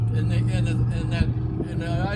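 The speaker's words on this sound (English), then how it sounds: "Unlike the cigarette boat that we're listening to now, that's not that quiet, which is like obnoxious." A cigarette-style speedboat engine drones steadily nearby, its low hum running continuously beneath someone talking over it.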